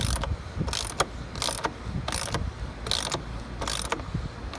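A ratchet tightens a nut and bolt on a filter, clicking in several separate bursts at close range against a low background hum.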